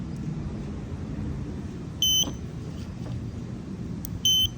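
Two short electronic beeps from a Magic Man handicap door control receiver, each brief and steady, separated by about two seconds over a low background hum.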